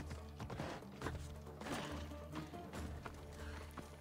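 Horse galloping in the Assassin's Creed Odyssey video game, a rapid close run of hoofbeats with a rhythmic clattering patter continuing throughout at moderate loudness.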